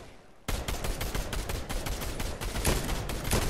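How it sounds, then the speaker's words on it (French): Gunfire in Fortnite starts abruptly after a brief quiet moment, then continues as a dense, loud stream of rapid shots with some heavier cracks until the end. "Ça tire sur la gauche."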